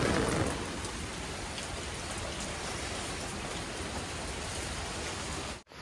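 Heavy rain pours down steadily while someone walks outdoors, a dense, loud, even hiss of drops on surfaces that cuts off abruptly at the very end.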